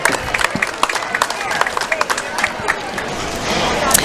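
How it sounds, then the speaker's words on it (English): An outdoor crowd at the Norwood Day Parade claps and cheers for the two Grand Marshals, a dense patter of many hands that swells slightly toward the end, with voices mixed in. "Let's give a round of applause to these 2 gentlemen, our Grand Marshals."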